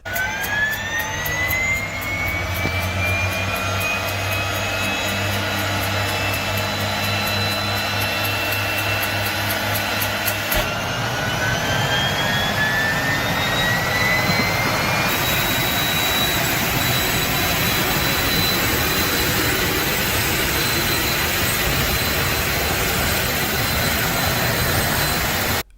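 DHC-2 Mark III Turbo Beaver with a Pratt & Whitney Canada PT6 turboprop engine, a loud continuous turbine whine with rising tones as the engine spools up, steady roar sustained throughout at close range.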